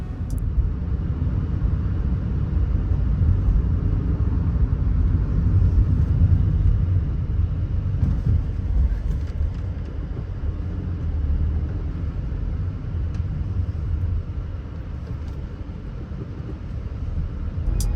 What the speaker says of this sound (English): I'll keep quiet so that you can hear the cabin noise.